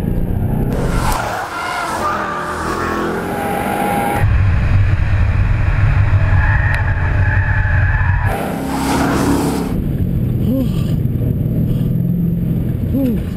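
Ford Mustang at high speed on a track: a loud, continuous engine roar with tire squeal and road rumble throughout, shifting in tone as it surges, with faint voices inside the cabin.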